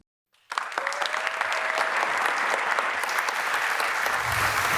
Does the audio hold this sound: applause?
yes